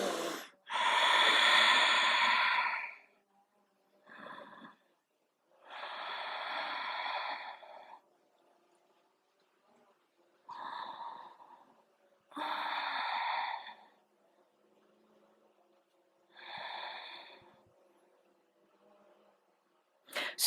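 Deep, audible yoga breaths during a vinyasa stretch toward bow pose, long airy inhales and exhales repeating in slow cycles with quiet pauses between, close and clear.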